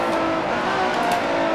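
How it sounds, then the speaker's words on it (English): A 1967 Formula One race car in Grand Prix Legends drops down into second gear at Spa, its engine note steady and close, droning alone without talk. "down into second gear."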